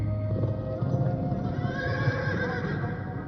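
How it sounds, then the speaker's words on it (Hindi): Horses of the President's Bodyguard regiment neighing and whinnying, with clip-clopping hooves underneath, close and steady throughout without speech. "अंगरक्षक घोड़े पर नहीं, घोड़े के साथ सवारी करते हैं।"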